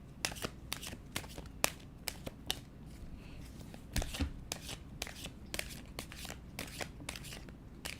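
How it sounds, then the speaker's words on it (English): Playing cards are handled and drawn from a deck, giving a series of crisp, close snaps and riffles spaced irregularly over a quiet background. "I will go ahead and pull a card for you."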